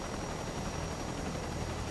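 Helicopter flying in Microsoft Flight Simulator 2024 on a scenic trip along the Leh to Manali highway, a steady dense rotor and engine roar that holds loud and constant throughout, with no talk.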